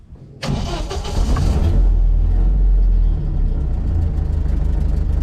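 A 1959 Land Rover Series II engine cranks briefly, then catches and roars loudly, settling into a steady rumbling idle close by.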